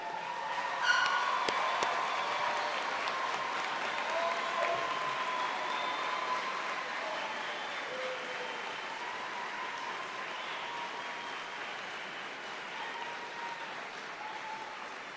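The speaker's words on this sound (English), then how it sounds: "Let's give them a round of applause." A crowd at a university commencement ceremony applauds steadily for a long stretch, the clapping sustained and a little distant and fading slightly toward the end.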